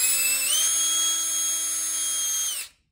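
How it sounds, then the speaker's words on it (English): Power drill boring into soft wood: a steady high-pitched motor whine held close for over two seconds, dipping slightly in pitch, then cutting off abruptly into silence. "Just keep the drill going and it comes out."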